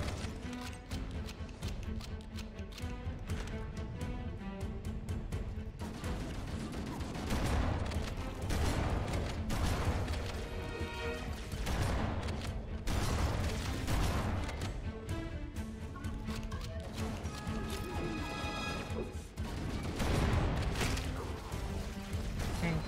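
Needler and shotgun fire in Halo's Library level, dense bursts of rapid shots and crackling impacts layered over game music and effects throughout.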